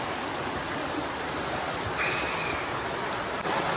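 Mountain creek at Spearfish Canyon flowing with a steady, close broadband rush of water that fills the clip, no voices.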